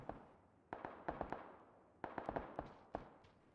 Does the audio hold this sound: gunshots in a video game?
yes